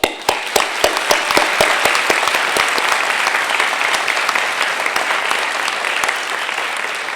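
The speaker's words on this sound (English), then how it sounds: "Please join me in a round of applause" Sustained audience applause fills the hall at an academic and leadership awards convocation, dense steady clapping from a large crowd with a few sharper claps standing out, slowly tapering near the end with no talk.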